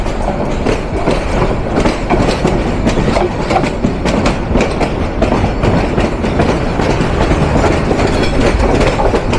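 A Balaka Commuter train in Bangladesh departs toward Jaria Jhanjail with a loud, continuous rumble and rhythmic clatter of wheels on rails, heard close and without pause.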